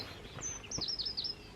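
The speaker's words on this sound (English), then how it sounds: "That's the wren there, you just heard." A wren sings a brief, high, rapid trill of chirps, clear but slightly distant, with no one talking.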